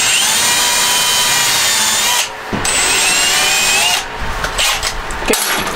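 A power drill whines loudly and steadily, close up, drilling into van subfloor in a 1995 Ford Econoline, briefly stopping twice before spinning up again.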